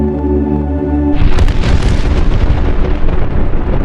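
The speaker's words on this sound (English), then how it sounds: "The Trinity test, the first atomic bomb detonation ever." Atomic bomb detonation at the Trinity test in the New Mexico desert: a sustained tone cuts into a loud, heavy, rumbling blast that keeps roaring without fading, with no voices.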